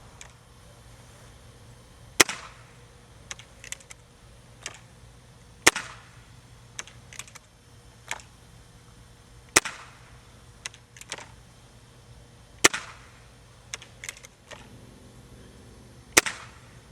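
A Gamo CSI Whisper .22 air rifle fires RWS Super H Point pellets in a series of sharp, isolated snaps spaced a few seconds apart, with fainter clicks of handling between shots.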